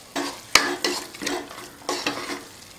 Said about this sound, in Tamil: இது ஒரு கொஞ்ச நேரம் நல்லா வதக்கிக்கலாம்